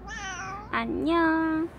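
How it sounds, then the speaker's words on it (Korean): A talkative cat gives a long, drawn-out meow that rises and falls, heard up close in a quiet room, with a person briefly speaking a greeting alongside it. "말이 많은 고양이네"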